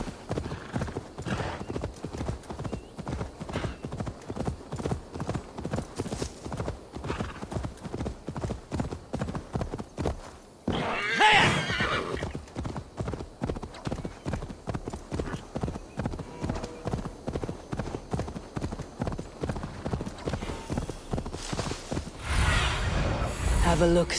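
Horse hooves clip-clop steadily and rhythmically throughout a ride in Assassin's Creed Valhalla, close and even-paced, with game music and a brief whooshing burst midway, plus a whinny-like flourish and a louder rumble near the end.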